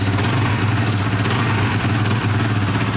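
A Suzuki GSX-R125 motorcycle engine idles steadily up close, a low throbbing rumble that holds at an even level throughout with no other sounds.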